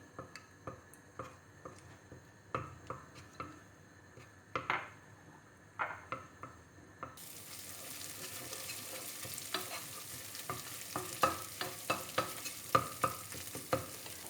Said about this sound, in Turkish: Salçamı biraz kavuracağım.